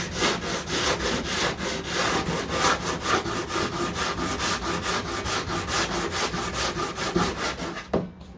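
Sandpaper is rubbed by hand over Bondo body filler on a 1969 Corvette C3, making rapid rhythmic back-and-forth rasping strokes, loud and close, that stop abruptly just before the end.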